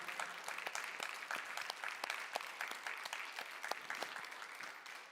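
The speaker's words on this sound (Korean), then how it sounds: "우리 감사의 박수 영광을 올려드리겠습니다" A church congregation at a Korean Presbyterian Sunday service breaks into applause, a dense, even clapping that holds steady and close throughout with a slight fade at the end.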